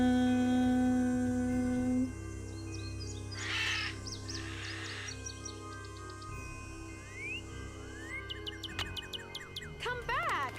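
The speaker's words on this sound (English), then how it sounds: "Why do these birds hate me?" Crows caw in a video game, with harsh calls and a few chirps and whistles over a steady droning background, while a person talks over them.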